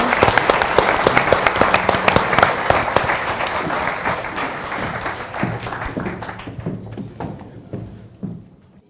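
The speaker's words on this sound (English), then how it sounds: "a nice big round of applause, please, for Sam, Michael and Felicity" Big round of applause from an audience at an IGD Fast Track industry session, dense clapping filling the room and slowly thinning out to a few scattered claps near the end.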